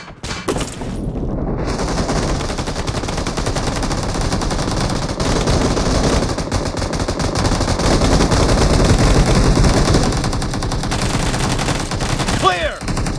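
Dense, sustained automatic gunfire from a shooter video game, with loud rapid bursts running nearly unbroken and a brief clatter near the end.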